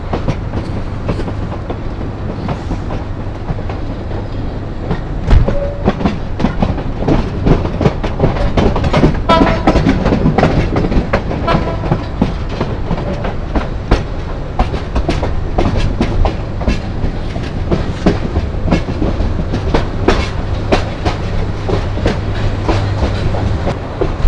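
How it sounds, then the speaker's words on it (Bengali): A train curves out of Kamalapur railway station, its loud wheels keeping up a continuous clickety-clack rumble over the whole stretch, close and steady. "ট্রেন কার্ভ নিয়ে বের হয়ে যাচ্ছে কমলাপুর রেলওয়ে স্টেশন থেকে"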